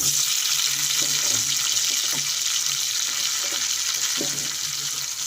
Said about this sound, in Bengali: এবার আমি দিয়ে দেবো একে একে কুচানো টমেটোগুলো